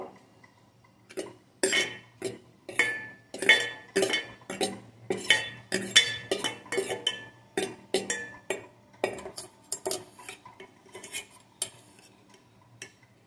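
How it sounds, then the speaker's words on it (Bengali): Metal tiffin box lifted out of a steaming pot while cooking prawn bhapa, a string of sharp metallic clinks and scrapes in an irregular rhythm, close and fairly loud, no talk. "এখন টিফিন কৌটোটা আমি নামিয়ে নেব।"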